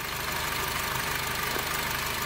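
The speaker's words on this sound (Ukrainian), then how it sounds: "Робота двигуна на бензині." A Honda Civic 8 engine converted to LPG idles while running on petrol, a steady, even mechanical hum with a faint rhythmic ticking, heard close up and alone.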